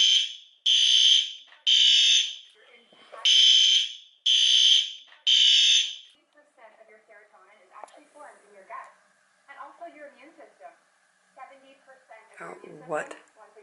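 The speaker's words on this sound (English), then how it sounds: "That was the fire alarm" A fire alarm goes off at 4 in the morning in Tulsa, Oklahoma, sounding five loud, piercing electronic beeps in an even rhythm before stopping, followed by quieter rustling and shuffling.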